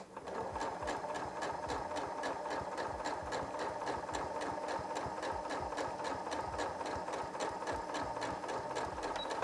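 A sewing machine runs steadily while back stitching at the end of a fabric scrunchie tube, its fast even needle rattle continuous and close for the whole stretch, with no talking.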